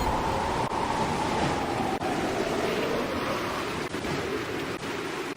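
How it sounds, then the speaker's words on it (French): Stormy sea surf and gusting wind from an animated film, a steady loud broadband roar of waves with a low whistling wind tone running through the whole stretch and no voices. "Les vagues ont secoué la barque."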